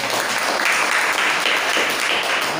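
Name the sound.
congregation clapping in church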